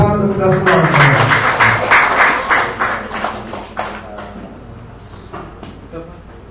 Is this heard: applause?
yes